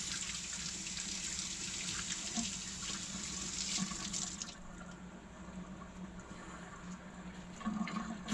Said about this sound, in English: Let's rinse our spoon off here.